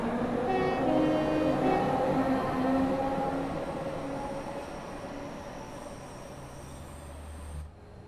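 A Bakerloo line London Underground train passes in Train Sim World 5, a steady rumbling roar of wheels on track with faint squealing tones that gradually fades as it moves away.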